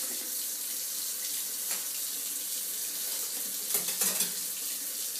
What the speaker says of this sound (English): Once the water runs clear, then your brush is clean.